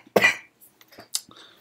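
A sharp, loud cough rings out close by, followed by a few fainter coughs and throat noises spaced across a short pause.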